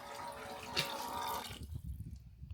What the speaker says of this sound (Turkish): Ee, bir yandan suyumu dolduruyorum. Onun sesi geliyor.